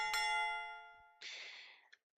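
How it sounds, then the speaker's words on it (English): A bell rings out with one clear strike and a long sustaining tone, then a brighter, noisier chime follows briefly before cutting off. "We have our third bell."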